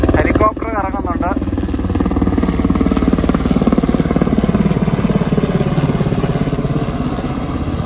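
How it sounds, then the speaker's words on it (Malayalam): A helicopter lands near Snowdon on a mountain hike, with a steady, rhythmic rotor thrum that holds loud and constant throughout; a brief voice is heard near the start. "ഹെലികോപ്റ്റർ ഇറങ്ങുന്നുണ്ട്."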